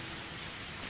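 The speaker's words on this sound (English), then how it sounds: "Raindrops pelted my face without mercy" Steady rain hissing in a Higurashi video game scene, a dense, even wash of falling drops held at constant level through the short stretch, with no voices over it.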